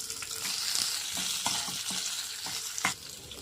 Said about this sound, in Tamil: இதில் 4 காரத்துக்கு 4 மிளகாய், கொஞ்சமாக பூண்டு, கொஞ்சமாக இஞ்சி இதை போட்டு வதக்கிக்கலாம்